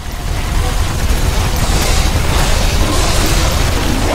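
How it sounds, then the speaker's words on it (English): A base building blown apart in the sci-fi game The Riftbreaker: a loud, sustained roaring explosion with a deep rumble and broad crackling debris noise that holds steady without fading. "One of our buildings has been destroyed."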